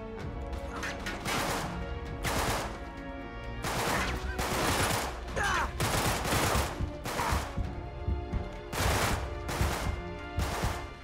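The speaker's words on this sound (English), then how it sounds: "Where am I getting shot from?" Heavy gunfire in the action game Uncharted 3: repeated loud bursts and crashing impacts across a dense battle mix, close and continuous, with some game sounds between the shots.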